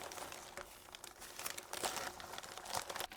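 Thin plastic bag hung up to catch sheetrock dust crinkles and rustles close by in irregular crackly bursts, with no talking.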